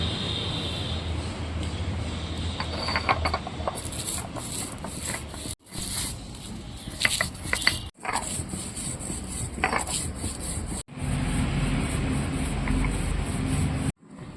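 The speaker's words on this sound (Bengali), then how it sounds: "সেই ভাজা মশলাটা আমি শুকনো শিলনোড়ায় বেটে নেব" Dry roasted spices are crushed on a shil-nora grinding stone, the stone rolling and scraping in steady, gritty strokes with brief pauses between passes, close and continuous.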